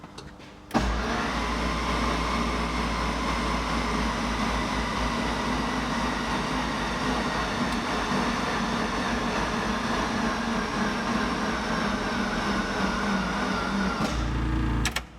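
An engine is cranked over by the starter with no oil pressure, a loud, steady mechanical churning drone running for about thirteen seconds without catching, starting and stopping abruptly, with no talking.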